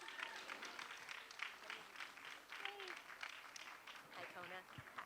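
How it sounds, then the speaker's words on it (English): Applause from an audience for a storyteller at a Moth StorySLAM, a steady wash of clapping with cheers and voices mixed in, fairly faint throughout. "bigger round of applause for Kona Morris."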